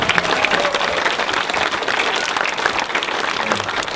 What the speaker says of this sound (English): So they need a big round of applause.